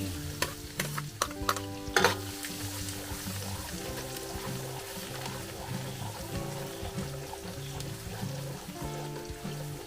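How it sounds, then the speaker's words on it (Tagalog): Onion and garlic sauté in a pan for beef-lung bopis, with a steady low sizzle and frying crackle throughout, plus occasional stirring scrapes and sharp clinks near the start. "Gisa tayo ng sibuyas at bawang."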